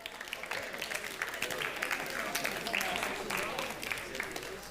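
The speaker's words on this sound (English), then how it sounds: "Give yourselves a big round of applause" Audience applause for the winning school team at a Christmas science show, a steady dense patter of many hands clapping throughout at moderate volume, with faint voices mixed in.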